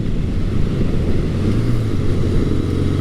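A 1980 Honda CB900 Custom motorcycle engine running steadily in high range, a continuous loud low drone with a smooth, even hum and no voices.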